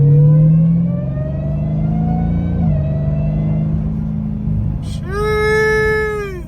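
Dodge Demon 170 engine revving with a high supercharger whine: a loud low drone at first, steady cruising, then a sharp rising whine of a rev climbing and settling near the end.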